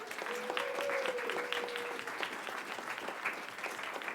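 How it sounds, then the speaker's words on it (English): A conference audience of a service club gives a big round of applause for a district governor, a steady mid-level wash of clapping lasting several seconds with no talk. "First of all, big round of applause for Christine Friedman"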